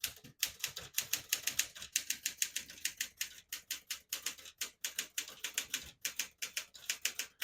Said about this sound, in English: Beautiful typing machine. This is the Galaxie 1, the first Galaxie